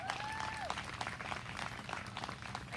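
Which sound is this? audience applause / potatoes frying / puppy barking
audience applause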